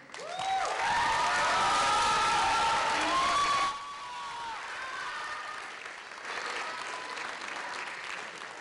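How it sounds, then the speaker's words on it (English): Graduation ceremony audience giving a round of applause for family members, loud dense clapping that fades to lighter scattered clapping and crowd murmur. "join me in another round of applause for your family members."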